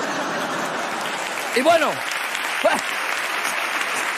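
Audience applause at a Spanish-language comedy show rolls on as a steady, dense crowd clapping throughout, with a voice briefly speaking over it.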